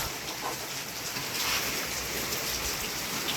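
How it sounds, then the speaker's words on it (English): Rain approaching outdoors beside a crab and fish catch, a steady soft hiss of falling drops at moderate distance, continuous and even with no talking. "I hear the rain coming."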